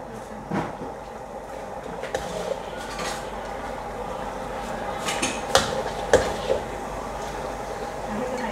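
A cooking pot for hotpot handled in a kitchen, with several sharp metallic clanks and knocks spread over a quiet background, plus faint voices.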